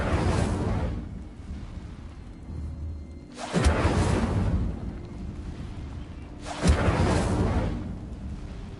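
Three fiery whooshing bursts from an Incendio fire spell cast in a Harry Potter video game, each a loud rushing blast about three seconds apart over a low ambient rumble.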